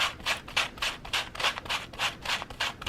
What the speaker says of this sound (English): That's the other nice thing about these sanding blocks is they bend going around in there.